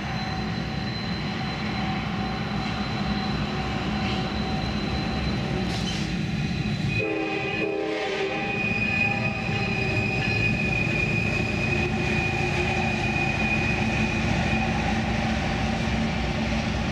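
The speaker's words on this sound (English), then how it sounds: "Here's a train coming downgrade" A train running downgrade on Horseshoe Curve, on the line from Pittsburgh toward Harrisburg, rumbles steadily and close throughout, with rail and wheel noise, a brief burst of clanking car sounds midway and a high wheel squeal ringing along the rails.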